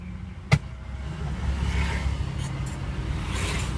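A vintage Honda N360 kei car with a slow-cranking starter: a sharp click, then a low rumbling engine churning steadily close by, with faint higher whines later.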